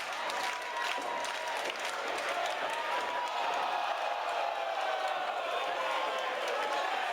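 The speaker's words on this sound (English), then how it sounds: "Listen to how loud the crowd is." Loud, steady crowd noise at a wrestling match, a dense roar of many voices and scattered clapping that holds evenly throughout with no break.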